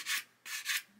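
Short strokes of sandpaper rub across a glued seam on an Airfix 1/24 Spitfire Mk.IXc plastic model kit, three quick rasping passes, close and alone.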